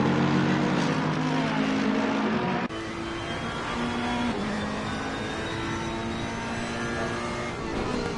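Ferrari and rival race cars in a racing video game at the Zolder circuit give a constant loud engine drone with layered whining tones, with a shift in pitch partway through, like cars chasing closely in a pack.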